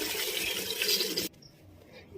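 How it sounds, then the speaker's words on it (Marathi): Water pours steadily into a pressure cooker holding sweet corn, with a rushing splash for about a second, then stops abruptly, leaving quiet room tone. "आता ह्याच्यात मी पाणी टाकते"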